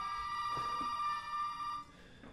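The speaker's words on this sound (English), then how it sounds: "The phone's ringing." An old-style telephone bell rings in the Resident Evil 7 game, a bright sustained ring with harmonics lasting nearly two seconds before cutting off, with faint thuds underneath.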